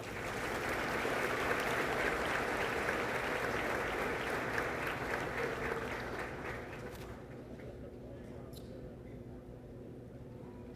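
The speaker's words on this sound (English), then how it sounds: "One more round of applause for Ms. Carter." Audience applause at a high school graduation ceremony, a dense steady wash of clapping from a large crowd that gradually thins and fades over the last few seconds, with faint background murmur.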